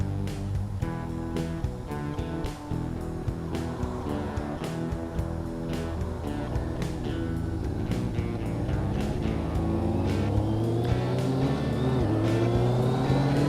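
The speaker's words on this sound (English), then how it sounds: "another line of cars pulls up the other way" Steady road traffic with cars rolling past, engine hum rising and fading amid a dense, continuous background of other sound.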